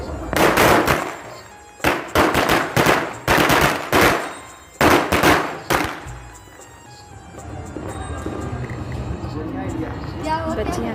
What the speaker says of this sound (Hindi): लड़के पटाखे छोड़ रहे हैं